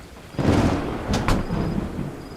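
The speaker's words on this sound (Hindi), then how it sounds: "बारिश भी बढ़ चुकी है" A loud crack of thunder bursts over heavy rain, followed by a second sharp rumble as the downpour keeps pouring.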